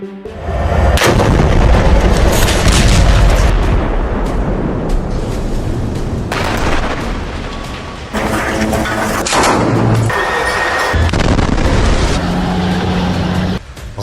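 Heavy bombardment in the Gaza war: loud, continuous booming explosions and artillery fire with dense rumbling blasts and sharp bursts throughout, no voices.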